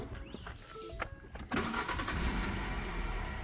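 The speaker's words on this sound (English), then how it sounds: "Engine sounds good." A car engine cranks with a few short stutters and then catches at about a second and a half, settling into a rough, fairly quiet idle.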